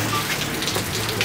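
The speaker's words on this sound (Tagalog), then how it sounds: "Napakalakas kasi ng ulan." Heavy rain pouring down steadily at a Bulacan resort, a loud dense patter filling the whole moment with no break and no talking.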